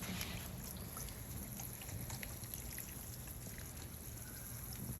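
Garden plants being watered outdoors, a steady spray of water pattering onto leaves and soil, continuous and fairly close with no talking.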